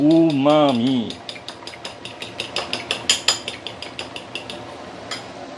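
A utensil clinks rapidly against a bowl while an egg mixture is beaten for Maggie mee goreng, a quick run of sharp metallic taps after a brief opening tone.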